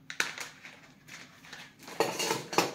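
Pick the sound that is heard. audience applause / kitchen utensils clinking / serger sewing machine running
kitchen utensils clinking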